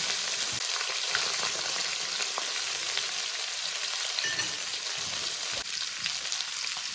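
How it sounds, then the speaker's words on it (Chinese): Scallions and ginger hit hot oil beside pan-fried fish for a Henan-style braised fish, making a constant loud crackling sizzle with occasional stirring knocks, close up and without voices. "我们把葱和姜给它放进去， 爆一下香"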